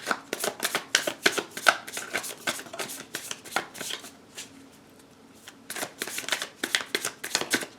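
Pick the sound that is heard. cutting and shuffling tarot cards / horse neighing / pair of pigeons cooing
cutting and shuffling tarot cards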